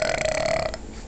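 A person lets out one loud, long burp lasting about three quarters of a second, close and clear, with a steady tonal drone running through it before it cuts off into quiet room noise.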